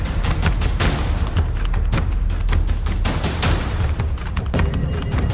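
Celebratory gunfire by supporters welcoming deputy chief minister Vijay Sinha in Barahiya, Lakhisarai, Bihar: a dense, loud, continuous volley of overlapping gunshots and booms outdoors, with no gaps and no talk.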